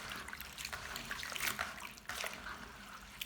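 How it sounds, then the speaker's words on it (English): Water splashes and trickles in short bursts as shrimp heads are swished and rinsed under running water, fairly quiet and close. "Wash the shrimp heads thoroughly."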